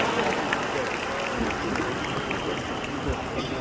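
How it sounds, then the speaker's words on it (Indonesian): Audience applause at a seminar hall in Kuala Lumpur, a steady, even wash of many hands clapping at moderate distance, sustained without a break. "saya pinjam tepuk tangan yang paling meriah dari hadirin semua untuk RIM Internasional dan Mr. Lim Boon Hon"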